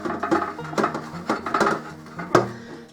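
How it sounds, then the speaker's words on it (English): A washed metal pot lid being dried, with light clinks, taps and rubbing knocks in an irregular rhythm, close and fairly quiet. "Let me dry my lid, because I washed that too"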